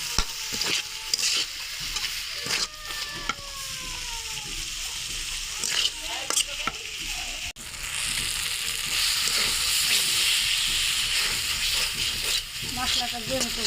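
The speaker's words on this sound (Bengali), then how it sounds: "মশলার সাথে মশলাটা ভালো মতো কষা পর্যন্ত অপেক্ষা করবো" Masala spices frying with thinly sliced tomato in a pan for a village fish curry, a continuous loud sizzle broken by scraping stirs and spatula knocks, growing denser and steadier in the second half.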